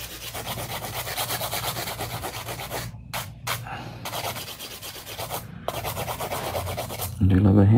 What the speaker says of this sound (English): Do a little bit of hand filing.